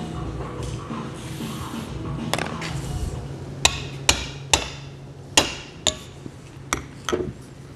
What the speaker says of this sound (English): this is just a generic bushing driver tool that we can hit the end with the hammer